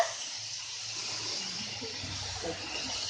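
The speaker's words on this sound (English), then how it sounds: "as it's catching at the bottom of the vessel, I'll be adding some water" Water poured into a cooking vessel of cabbage and coconut dry masala, a soft steady gushing splash running through the whole stretch, close and moderately quiet, with no talking.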